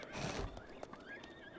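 A horse in Zelda: Breath of the Wild lets out a single close whinny with a rising then falling pitch, with faint hoof clatter underneath and no talking.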